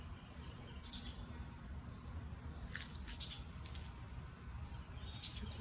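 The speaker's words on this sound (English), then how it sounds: "That noise right there? There he is. It's the daddy bird." Short, high bird chirps repeat at irregular intervals over a low, steady background rumble, fairly faint and somewhat distant.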